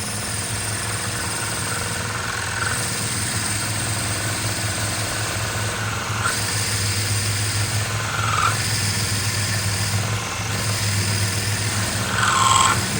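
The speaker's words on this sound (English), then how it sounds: "what we're doing is we're not choking the material with the drill bit" A drill bores straight through a woolly mammoth tooth tube, a steady loud grinding whir with a low motor hum that holds for the whole stretch and rises in short bursts as the bit pushes deeper.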